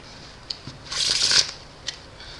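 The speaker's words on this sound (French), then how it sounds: "on mélange les cartes" A blue-backed 52-card Bicycle deck is riffle-shuffled American style: a couple of soft taps, then one quick close burst of fluttering cards lasting about half a second, and a final tap as the deck is squared.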